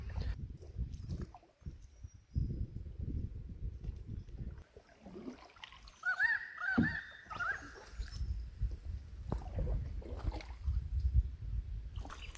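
Canoe paddling on the Glenelg River: soft irregular splashes and drips of paddle strokes in quiet water, with light wind rumble, brief faint talk and a short bird call midway.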